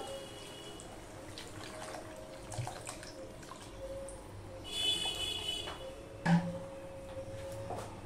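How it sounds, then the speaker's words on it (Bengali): Water poured from a container into fried, cooked-down spice paste in a pan for Bengali hilsa fish curry, a soft steady pour with a brief louder splash near the end over faint kitchen background. "এবার আমি দিয়ে দিচ্ছি জল।"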